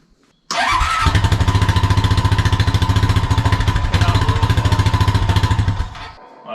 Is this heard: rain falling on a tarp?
no